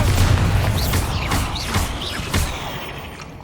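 Explosive Confringo and Bombarda spells in the video game Hogwarts Legacy: a heavy rumble, then three or four sharp booming blasts spaced about half a second apart, fading toward the end.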